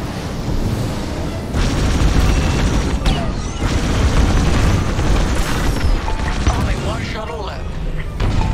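Heavy fire and explosions rumble in Star Wars: Squadrons space combat, a dense, loud roar of booms and blasts with whooshing laser bursts near the end.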